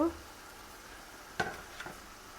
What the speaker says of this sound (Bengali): এখনই আলুগুলো দিয়ে দেব